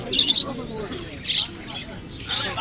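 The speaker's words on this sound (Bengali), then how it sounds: "শিবাজি অনেক কবুতর আসছে দেখেন" Pigeons and other birds at a crowded weekly bird market in Sreepur, Gazipur, give scattered chirps and soft coos over a steady background murmur.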